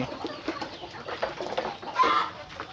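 Young hens and other chickens in a Thai poultry breeding pen make soft, scattered clucks and chirps, with a slightly louder call near the end, all at a moderate distance.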